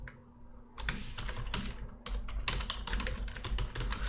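Keystrokes clatter on a computer keyboard while Python GraphQL code is written, quick irregular bursts of close clicks with brief pauses between runs and no talking.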